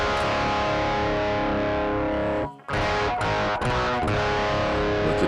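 Electric guitar played through a Behringer TM300 amp simulator on a British setting with a slightly more modern cabinet gives distorted, sustained chords that ring out, cut off briefly, then resume with further strummed hits.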